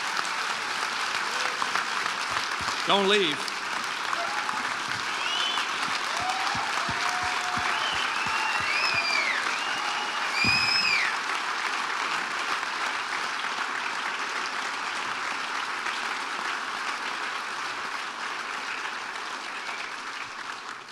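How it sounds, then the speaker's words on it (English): A banquet audience at a college athletics Hall of Fame ceremony applauds the inductees, sustained steady clapping that swells and slowly fades, with a few brief voices and laughs mixed in. "let's give one last round of applause to these two before we get to the formal"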